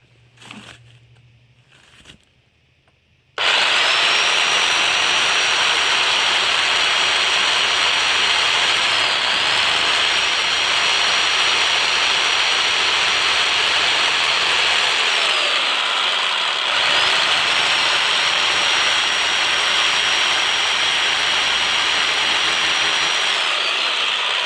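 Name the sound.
drilling holes into a brick wall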